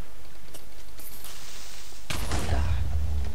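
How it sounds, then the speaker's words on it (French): A creeper blows up in Minecraft as a sudden, loud blast that cuts in partway through and trails off into a low, rumbling roar, with a faint crackle earlier. "Ah, double explosion."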